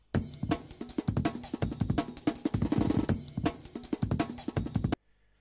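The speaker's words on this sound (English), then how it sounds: "let me try it on the other warping mode, which is repitch" Drum break repitched in Ableton Live's warping mode, a fast, punchy run of kicks, snares and cymbal hits in a tight jungle-like rhythm, loud and dense for about five seconds before cutting off abruptly into silence.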